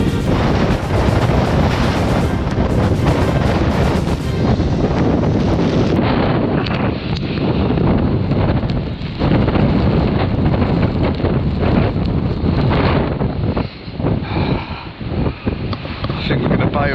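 Strong storm wind on the UK coast roars and buffets the microphone, with crashing sea spray and surf hissing loudly and continuously; a voice is faintly heard.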